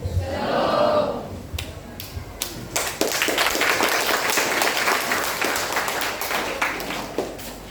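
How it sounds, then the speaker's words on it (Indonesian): Audience applause in a school hall during an OSIS student council debate at SMA Kristen Payeti, starting with a brief murmur, then swelling into steady, close clapping with sharp individual claps that carries on to the end. "sekali lagi kita beri tepuk tangan buat Bapak Kepala SMA Kristen Payeti"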